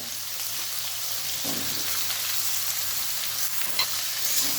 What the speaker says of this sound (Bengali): এবার পেঁপে আলুগুলো একটু হালকা ভেজে নিলাম